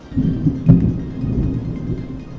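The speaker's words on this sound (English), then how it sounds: "It's thundering outside, good grief." Low, rolling thunder rumbles in the distance, a soft continuous growl with a slightly stronger swell partway through.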